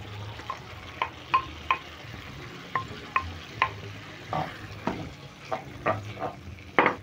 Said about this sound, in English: Stir in the Mbaazi into the curry